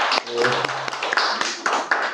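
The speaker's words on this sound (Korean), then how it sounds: "박수 한번 부탁드립니다" Brief, light applause from a small congregation at an infant baptism in a church, with a few scattered claps and murmuring voices beneath.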